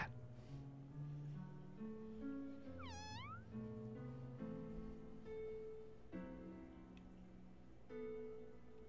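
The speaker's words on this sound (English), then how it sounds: "The cat." A cat meows in the video game Omori, a clear rising cry over soft, sustained in-game music that plays throughout.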